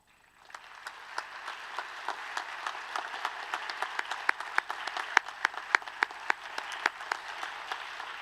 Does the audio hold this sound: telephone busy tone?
no